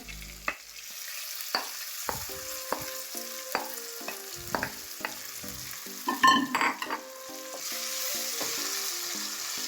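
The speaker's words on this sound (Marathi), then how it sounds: "याला छानपैकी एकजीव करून घेऊयात." A spoon stirs spicy masala through tomato chutney frying in a pan, with green chillies and curry leaves. Clear scraping strokes repeat under a steady sizzle that rises into a brighter hiss toward the end.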